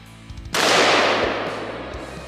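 A 12-gauge shotgun blast strikes a cast iron Peerless 2300 transmission outdoors: one loud, sharp report with a long ringing decay, preceded by a few faint low thumps.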